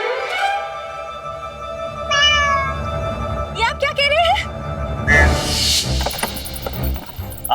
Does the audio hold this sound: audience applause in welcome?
no